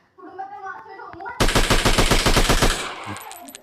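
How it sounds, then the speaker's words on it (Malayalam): Rapid automatic gunfire in a mobile shooting game, a loud, dense burst of evenly spaced shots lasting over a second after a stretch of softer game sounds, then cutting off. "ഇവിടേക്കൊക്കെ വെടിവെച്ച് കളിക്കാം കേട്ടോ."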